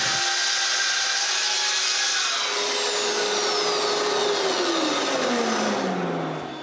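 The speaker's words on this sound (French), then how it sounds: "après avoir coupé la moitié, je retourne au début et je termine la coupe" A saw working through a thick cherry wood board for a bathroom vanity, a loud continuous rasping cut that holds steady for several seconds, then the blade's pitch drops and winds down as the cut finishes, close and without talk.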